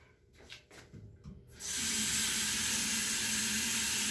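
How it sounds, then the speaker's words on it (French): A tap runs steadily in a school washroom as someone washes their hands: a loud, even rush of water that starts abruptly after a quieter moment of faint shuffling. "Il va se laver les mains."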